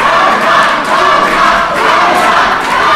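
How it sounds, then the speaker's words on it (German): Spectators shouting a fighter's name in rhythmic waves at a women's kickboxing championship bout, a loud, dense crowd chant that swells and dips throughout. "schreit das Publikum"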